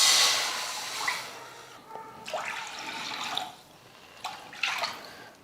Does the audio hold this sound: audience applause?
no